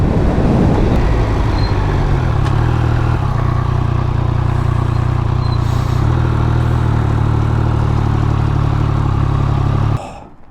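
Triumph Speed Triple 1200 RR motorcycle being ridden, its engine a loud, steady low drone for about ten seconds with wind and road rush over it, then cutting off abruptly near the end.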